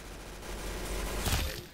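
Gunfire rattles in the Arsenal video game as a short burst of rapid shots, fairly quiet overall, with a denser cluster of bangs near the end.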